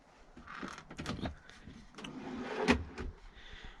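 A pull-out table slides out from a cabinet in a vintage VW T3 van, a short soft scraping glide with a couple of light knocks, fairly quiet and close with no talking.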